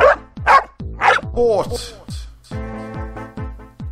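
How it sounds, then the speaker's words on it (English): A dog barks repeatedly in a Call of Duty game trailer, sharp close barks and yips in quick succession with short gaps, loud and clear with no talk over it. "One of the fascinating new additions to your squad is a dog."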